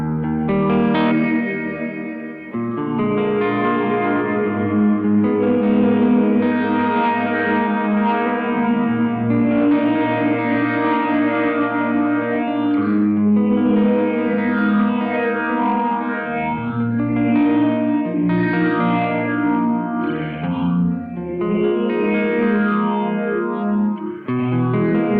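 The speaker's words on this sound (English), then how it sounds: "Ferb, which is a reverb with some phaser in it" A DigiTech Supernatural ambient reverb pedal set to a reverb with phaser, washing over sustained guitar chords in a swirling, slowly sweeping shimmer with long echoing tails, loud and continuous with no talking.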